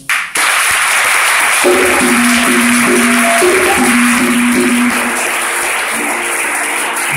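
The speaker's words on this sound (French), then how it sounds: "Acclamez vous-même." Church congregation in Gabon clapping and cheering together at a worship service, loud and continuous, with sung or sustained voices and musical tones running underneath.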